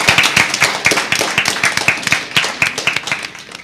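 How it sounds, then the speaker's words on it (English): Students and spectrators at a school science quiz give close, steady applause, a dense run of crisp hand claps that carries on for several seconds at a strong, even level. "Please give them a round of applause."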